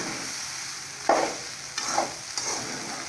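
Cooked rice is folded into a coconut mixture in a pan for coconut rice, with a low background sizzle and three soft scraping strokes of a spoon.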